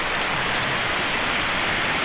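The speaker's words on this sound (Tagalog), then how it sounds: "Grabe lakas ng ulan." Heavy rain pours down outdoors at a fishing spot, a dense, continuous roaring hiss that stays loud and even throughout, with no talking.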